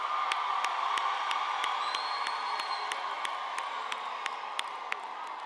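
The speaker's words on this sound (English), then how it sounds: "Thank you for the celebration and the applause." Graduates of the Faculty of Accounting and Informatics cheer at a university spring graduation ceremony, a continuous crowd roar with whoops and shouts over a regular beat of sharp claps, steady and moderately loud throughout.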